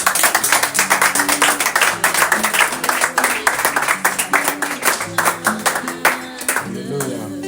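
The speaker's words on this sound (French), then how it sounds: "Acclamons pour le Seigneur Jésus" A church congregation at an assembly in Biyem-Assi, Cameroon, claps steadily in rhythm for several seconds, loud and close, with voices singing and calling out through the applause.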